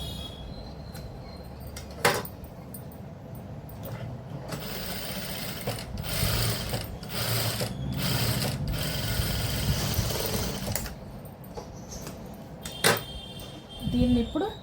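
A sewing machine stitches net fabric for a blouse, running in a steady, close whirring rattle through the middle with softer stops and starts, while a voice talks quietly over it.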